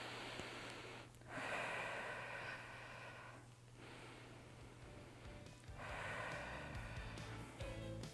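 Deep, audible breaths taken in a rest pause after a set of chest exercises, slow inhales and exhales in a few long cycles, fairly close and quiet.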